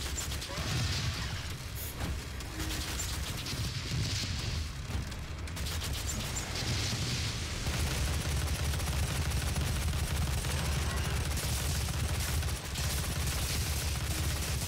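Rapid weapon fire and mechanical combat noise from the Doom video game during a boss fight with the Twins, a dense, continuous barrage of shots and clanks that stays loud throughout with no pauses.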